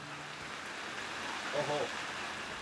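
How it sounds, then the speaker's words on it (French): Heavy rain pours down in a town, a steady dense hiss of water filling the whole stretch, with a voice briefly breaking through partway. "Il pleut vraiment des cordes."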